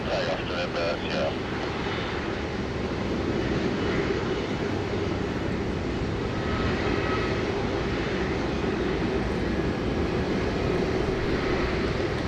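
Airliner taking off from a Sydney Airport runway, heard as a steady broadband jet roar that holds loud and constant throughout, with faint tonal engine whine riding above it and no talk.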